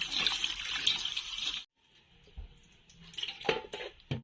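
Tap water runs steadily while anchovies are rinsed for a coconut-milk paksiw, then cuts off abruptly, followed by faint clinks and splashes from handling the fish in a basin.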